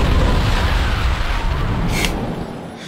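An explosion death animation in the racing video game Crash Tag Team Racing gives a deep, rumbling boom that fills the moment, with a brief bright crackle partway through before the roar fades.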